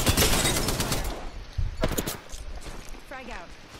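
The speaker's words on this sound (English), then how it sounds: "I'm taking shots. Taking fire," Gunfire in a first-person shooter video game: a loud burst of rapid shots at the start, then a few sharp separate reports, with voices talking over the top of it.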